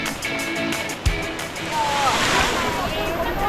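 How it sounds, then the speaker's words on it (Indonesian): River water from the Pelisan waterfall in Bali rushes steadily, a broad continuous wash of flowing water, with faint voices and a brief knock partway through. "Sungai yang jadi lokasi kami mengalir dari aliran air terjun."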